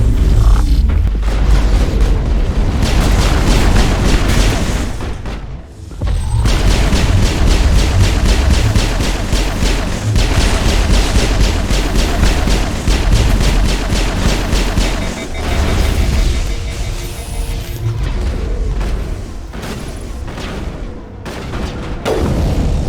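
Gunfire and explosions fill a combat scene in the video game Mass Effect, with rapid weapon bursts, booms and mechanical clatter continuing densely and loudly throughout, briefly broken by short pauses.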